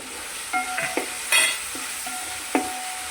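Onions sauté in a pan for pork curry, a soft sizzle under several clinks and scrapes of a utensil against metal, with one brighter rattle near the middle and no voices.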